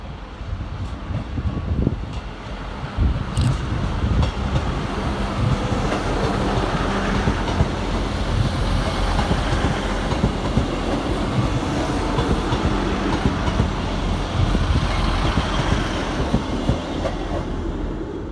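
Two coupled Class 158 diesel multiple unit trains rumble steadily into Stockport station, a continuous low mechanical roar with rail clatter, loud and close throughout.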